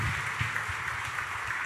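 A church congregation applauds continuously, a dense, steady wash of many hands clapping at a moderate distance with no speech over it.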